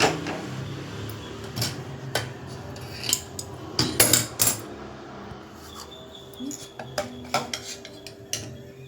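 Sago payasam tinted with saffron is ladled into a serving bowl, with scattered light clinks and taps of a metal ladle against dishes over a quiet kitchen background.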